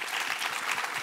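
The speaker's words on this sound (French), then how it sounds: "Je pense qu'on peut vous applaudir" Audience applause at a business awards event on workplace inclusion, steady dense clapping from a room of people lasting about a second, fairly even and mid-distance.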